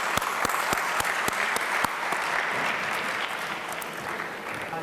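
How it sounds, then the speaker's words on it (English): Steady applause from a conference audience at a high-level dialogue, dense clapping that fills the whole stretch at a fairly even level, with a few sharper claps standing out early on. "Please give a hand of applause to our speaker."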